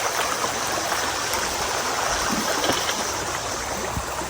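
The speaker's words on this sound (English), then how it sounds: "pretty creek flowing this way" A full creek in the Northern Territory, swollen after heavy rainfall, rushes steadily past, a loud continuous wash of flowing water with occasional gurgles and no talking.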